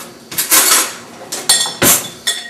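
Serving plate and salsa bowl set down on a kitchen counter, giving several sharp ceramic clinks and knocks in quick bursts, close and fairly loud with no talking.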